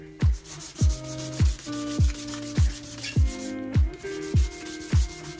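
A motorcycle petrol tank on a Suzuki RG125 being dry sanded with 220 grit paper in steady back-and-forth strokes, each pass a close, rhythmic gritty rasp repeating about every half second.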